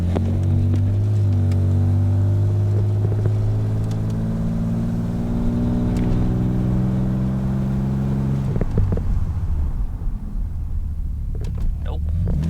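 A Nissan 300ZX Z32 drives along during a brake test, its engine a loud, steady low drone that slowly drops in pitch as the car slows, then gives way to quieter road rumble and a few light knocks.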